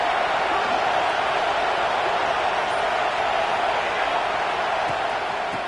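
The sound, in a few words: stadium crowd noise in Madden/NCAA football video game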